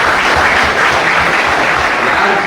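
Applause from an audience at a sanitation workers' day honouring ceremony, a loud, dense wash of clapping that holds steady throughout without any voices.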